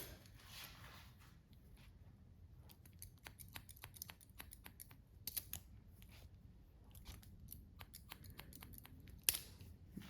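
Hairdressing scissors snip in quick, light point cuts through short hair, many sharp close clicks spaced irregularly over a quiet background, with no speech.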